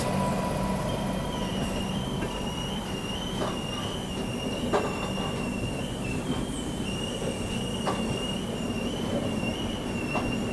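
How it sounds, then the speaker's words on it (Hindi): The Capital Express runs along the tracks with a steady rolling rumble, shrill wheel squeals rising and falling over it, and occasional clacks from the rails, all close and continuous. "देखिए जिस पर यहाँ पर ट्रेन भी बढ़ रही है। Capital express."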